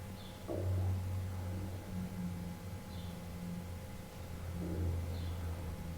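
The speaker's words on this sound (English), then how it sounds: "Not the car passing outside, I hear that." A car hums past outside, a low steady engine rumble heard faintly through the walls over a hissy background.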